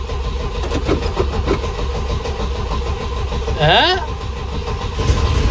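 An old engine in an abandoned Amazon boat is fired with a key, running without a choke after losing carburetor prime. A loud, steady, rumbling run carries a short rising whine partway through.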